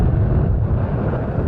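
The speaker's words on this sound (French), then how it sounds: "il y a du vent aujourd'hui" Wind roars steadily across a boat at sea on the Mediterranean, a dense, continuous low buffeting that fills the whole stretch without letup, with no voices.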